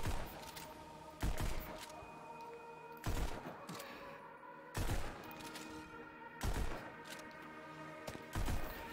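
Gunfire from the VR shooting game Pistol Whip, played with dual-wielded pistols, comes as a close, loud burst of shots roughly every two seconds over a continuous droning music backdrop.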